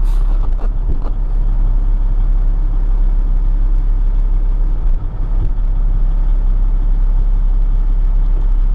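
A triaxle dump truck idles in a steady, deep rumble while its raised body is lowered, heard from inside the cab, with an occasional brief bump and no talking.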